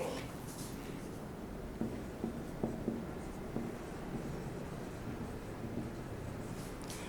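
Handwriting of an English example sentence during a grammar lesson: soft, steady scratching strokes with a few light taps, fairly close, over a low background hum.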